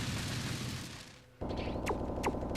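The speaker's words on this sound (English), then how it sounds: "some of the explosion sound effects are a little bit louder than they should be" Explosion sound effects from the video game Mega Man X4 burst loudly in rapid succession, a noisy rumbling blast that fades and then kicks back in with another crackling string of booms.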